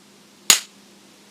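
A Goodnature A18 automatic grey squirrel trap fires its bolt in a simulated strike, giving a single sharp, loud snap like a cap gun in an otherwise quiet room.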